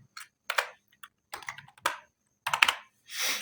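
Bursts of keystrokes on a computer keyboard while HTML form code is typed, short clustered clicks with pauses between, close and clear, ending in a longer rushing burst, with no talking.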